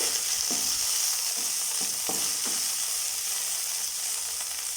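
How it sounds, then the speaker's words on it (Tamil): Okra fries in oil in a pan, a steady bright sizzle with several distinct scraping stirs of a spatula spaced through it, close and without talk. "இப்போ இந்த வெண்டைக்காய் நல்லா ஃப்ரை ஆகட்டும்."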